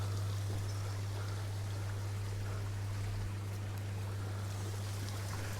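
Garden water feature at a large house splashes steadily, a continuous broadband wash of falling water over a low mechanical hum, with no talking.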